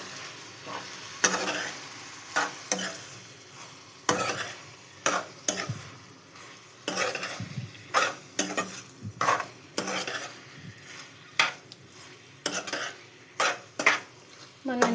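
Four medium tomatoes with rock salt are stirred in a cooking pan for a brinjal tomato curry, giving repeated close scraping strokes of a spoon against the pan in an irregular rhythm, each stroke crisp and distinct, with soft sizzling between them.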